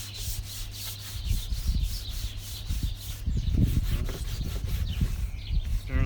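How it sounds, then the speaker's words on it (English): Sandpaper rubs back and forth across a wooden outdoor table being restored, a loud, close, rhythmic rasping scrape with repeated strokes and gritty texture, no talking. "You can hear the grits getting into the sandpaper grooves."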